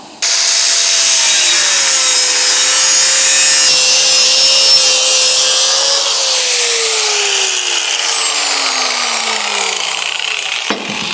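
A power tool cuts metal on a truck's exhaust or intake part during an HE351 turbo swap on a 12-valve engine: a loud, steady, high grinding whine that drops in pitch near the end and then stops abruptly.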